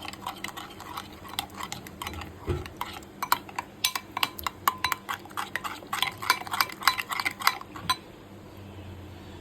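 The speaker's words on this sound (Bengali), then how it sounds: "আবার একবার নেড়ে নেব।" A spoon scrapes and clinks against a cooking pot as food is stirred, giving a steady run of close, sharp metallic taps and scrapes that fade out near the end.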